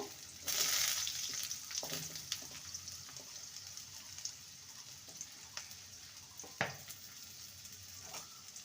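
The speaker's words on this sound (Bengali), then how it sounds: "প্রথমে আলুটাকে ভালো করে ভেজে নেব" Close, steady sizzle of potatoes frying in a pan, with scattered clicks and scrapes of stirring, a louder burst near the start.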